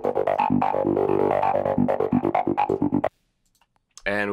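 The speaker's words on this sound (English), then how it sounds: "we're going to tackle another archetypal Psytrance lead that you can do in Serum, and that is the sample and hold lead" Psytrance sample-and-hold lead synth programmed in Xfer Serum, a dense stream of rapid stepped notes with randomly jumping pitch for about three seconds, then a pause and a brief return of the bright buzzy tone.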